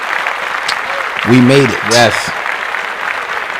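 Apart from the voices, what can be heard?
audience clapping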